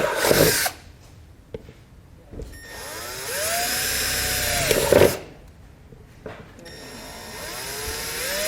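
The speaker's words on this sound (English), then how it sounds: "we're going to drill out those holes with a 1/4-inch drill bit" A power drill with a 1/4-inch bit bores holes while a trailer brake controller is fitted to a 2015 Chevrolet Silverado. Two loud, close bursts of whining, straining drilling are separated by short pauses, with no talking.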